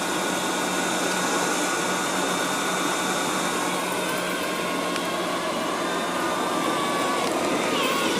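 Liectroux robot vacuum cleaner running across the floor and picking up fur, a steady close motor whine and brushing hum that stays even throughout, with no talking over it.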